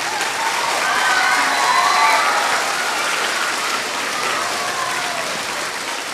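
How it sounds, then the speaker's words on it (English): Students applaud parents at a beginning honor band concert, a steady, full crowd clapping with some faint cheering and voices mixed beneath it, holding even for about six seconds. "Students, can you give them a round of applause?"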